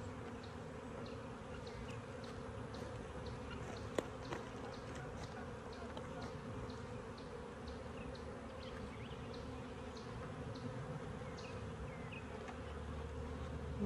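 Honey bees drone steadily around an open hive during a frame inspection, a dense, continuous buzz with individual bees zipping close past now and then, fairly quiet and unbroken, with no talking.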